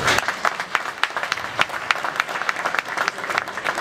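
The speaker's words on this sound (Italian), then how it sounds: "Un applauso." A crowd at an evening political event in Bibano di Godega applauds for a mayor, with steady dense clapping and scattered sharper claps standing out, heard alone and moderately loud.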